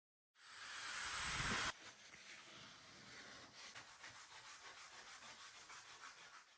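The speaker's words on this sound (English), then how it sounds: "It's a 2-inch sanding disc that I can attach to my drill press or my cordless drill" A 2-inch sanding disc on a drill scrubs against wood, opening with a loud, bright rasp for over a second, then settling into a softer, steady rubbing with faint rhythmic pulses.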